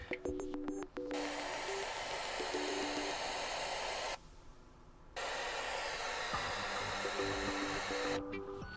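Nintendo Switch 2 stereo audio output test: a few quick beeping tones, then long bursts of hissing noise broken by a one-second gap before the hiss resumes, ending with more short beeps.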